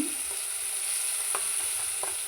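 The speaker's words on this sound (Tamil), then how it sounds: "அது கூட தக்காளி ஆட் பண்ணி வச்சு அதே நல்லா வதக்கிட்டுக்கிறோம்" Chopped tomatoes sauté in a pan with a continuous close sizzle, punctuated by a couple of brief scraping stirs.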